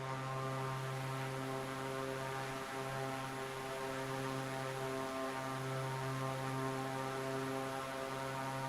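A Sea Star seaplane flies in Microsoft Flight Simulator 2024, its propeller engine holding a steady, even drone throughout, close and moderately loud with no talk.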